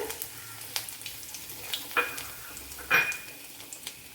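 Fenugreek seeds and a small piece of ginger fry in hot oil for a pumpkin and okra curry, giving a faint, steady sizzle with scattered small pops and one louder crackle near the end.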